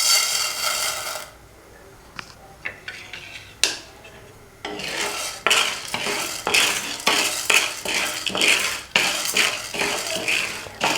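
Chana dal roasting in oil in a pan over a medium flame while a spoon stirs it, for idli milagai podi. Close, repeated rasping scrapes and rattles come in steady strokes, with a quieter stretch of scattered clicks early on, and no talking.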